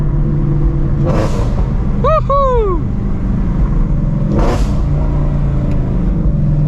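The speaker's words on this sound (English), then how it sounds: "the beautiful symphony of the long tube headers, the OEM plus exhaust" A Shelby GT350 Mustang with long tube headers and an OEM-plus exhaust on E85 fuel growls loudly and steadily with a couple of rising revs, and a voice whoops once over the engine.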